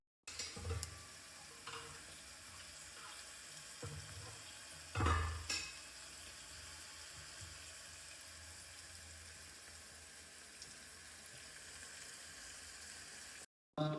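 Vegetable masala of brinjal and valor beans roasting in oil, a faint steady sizzle with occasional soft stirring scrapes, no talking.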